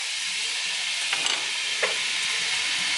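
Onions frying in a generous amount of oil in a pan, a steady broad sizzle and hiss throughout with a couple of faint stirring scrapes, close and even.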